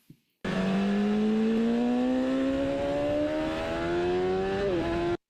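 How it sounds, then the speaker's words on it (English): Motorcycle accelerating hard on track, a loud close engine note climbing steadily in pitch as the revs rise quickly, then dipping briefly at a short upshift and carrying on, with the induction note changing. "you can hear the induction note change and the revs climb really quickly"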